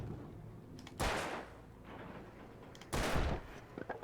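Gunfire from shooting enemies in the Alan Wake video game: two loud, sharp bursts about two seconds apart, each with a brief ringing tail over a low rumbling game background.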